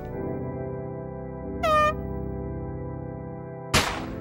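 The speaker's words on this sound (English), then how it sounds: "The air horn went off." A loud, sustained air horn blast with a rising pitch sweep in the shooting-gallery video game NRA Gun Club sounds over a steady electronic game hum, followed by a sharp burst of noise.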